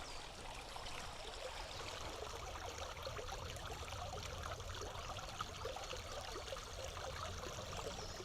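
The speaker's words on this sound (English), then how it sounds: "Cute little stream." A small woodland stream trickles and burbles steadily throughout, a continuous close wash of running water with no voices.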